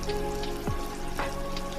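Shallots, lemongrass, five-spice and blended chilli paste sautéing in hot oil for ayam masak merah, a close, steady crackling sizzle with light popping throughout and no talk.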